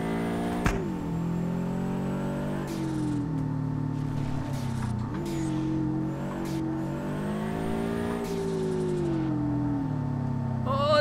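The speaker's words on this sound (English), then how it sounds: "Pulling the handbrake." A car drifting in the DRIFT21 racing game with the handbrake pulled, its engine droning and revving steadily for the whole stretch, with brief sharp shifts in pitch and a sudden transient near the start.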